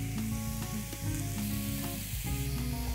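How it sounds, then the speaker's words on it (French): A steak crackles on a grill plate, a loud, dense sizzle held close throughout, with steady tonal hum from the cooking setup beneath it and no talk. "je vais prendre mon steak délicatement, le poser sur ma plaque grill, saler et poivrer une première fois"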